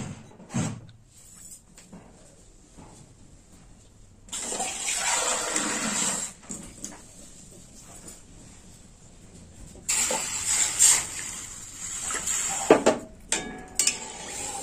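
Water is poured into a pot of mung dal with green mango and ginger, in two splashing bursts separated by quieter stretches with small clinks; no talking.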